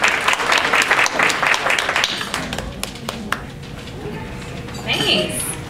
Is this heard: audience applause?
yes